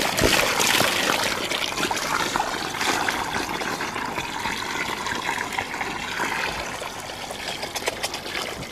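Warm water pours and trickles steadily into containers for chickens and pigs at a winter coop and pig pen, a continuous close splashing with no talking.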